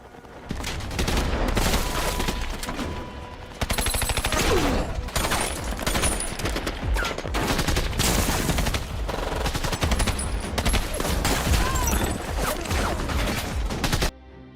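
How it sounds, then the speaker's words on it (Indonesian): Sustained gunfire in an action film sniper scene against a crime gang, with loud dense volleys of shots and bursts running almost continuously for about fourteen seconds before cutting off. "Dia berhasil menembak mati Eddie Kantara."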